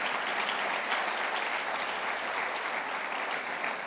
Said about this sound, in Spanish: Entonces, aplaude al Señor